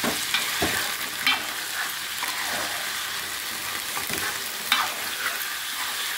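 Chicken pieces stirred into browned fried onions in a pan for radish chicken curry: continuous oil sizzle with intermittent scraping strokes of a spoon, close up and with no talking.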